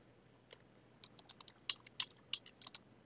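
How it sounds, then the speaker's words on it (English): Quiet keyboard typing on a computer, with a short burst of scattered key clicks that are faint and irregular, the last few taps a little sharper, over a low background hum with no talking. "I'm gonna type in thank you"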